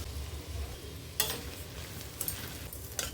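Broken rice rava being dry-roasted and stirred in a pan for rice upma, a low steady sizzle with a few sharp scraping strokes of the spoon at intervals.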